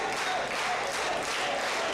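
Wrestling crowd at a Hub City Wrestling opening match, cheering and applauding in a steady, dense wash of noise with no break.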